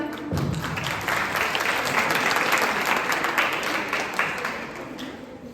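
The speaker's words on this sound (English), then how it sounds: "big round of applause to ma'am." A school assembly audience gives a round of applause, sustained, fairly loud crowd clapping that builds and holds before tapering slightly, with no talk over it.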